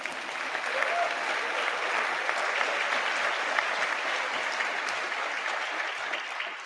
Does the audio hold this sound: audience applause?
yes